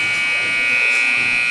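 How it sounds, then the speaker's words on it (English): A loud, sustained electric buzzer sounds at a youth hockey game, a steady, harsh drone lasting the whole moment. "Loud buzzer."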